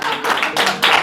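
Short burst of close, loud clapping from an audience at a gathering, a quick patter of overlapping hand claps over about a second.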